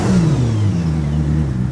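A high-performance car engine revs hard, its pitch sweeping down and then holding steady in a loud, continuous growl with no other sounds.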